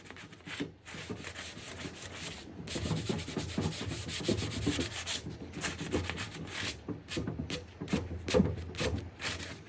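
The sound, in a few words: lightly sanding primer on furniture with a sanding sponge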